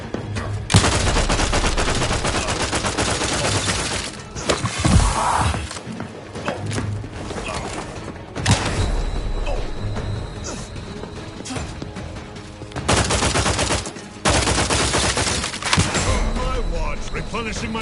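Sustained bursts of video-game gunfire in The Outer Worlds 2, loud and dense through most of the stretch, broken by brief lulls and heavy thuds, with rapid fusillades returning in waves.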